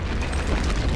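Explosives blowing up in the Return to Castle Wolfenstein video game, a dense, sustained low boom with rumbling bass filling the whole short stretch at steady loudness.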